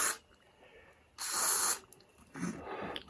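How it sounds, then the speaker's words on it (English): Short hissing bursts of spray cleaner aimed at parts inside a 1956 Trav-ler combo radio, close and clear, with three separate squirts and quiet gaps between them. "let's just go ahead and spray these"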